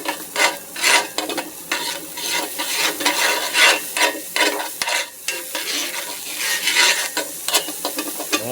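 Shallots hit ghee in a pan on medium heat, producing a loud, close sizzle with scraping and stirring strokes in an uneven rhythm, continuing throughout without any speech.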